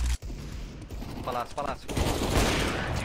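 Gunfire in a competitive Counter-Strike match on Palace, with a dense burst of shots over constant game noise while players talk over it.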